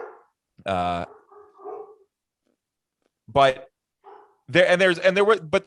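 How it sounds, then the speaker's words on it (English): Dogs bark in short bursts, a couple of loud yelps and a longer run of barking near the end, with someone speaking briefly between them. "the dogs are barking"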